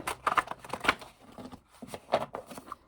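Tarot-style deck of cards being shuffled by hand, soft irregular riffles and papery taps in quick bursts, close and fairly quiet with short pauses between.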